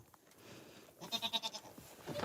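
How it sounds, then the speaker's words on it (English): Goats on a homestead bleat in a quick run of wavering, pulsing calls, close and moderately loud over an outdoor background. "The goats are one of my favorite animals on the homestead."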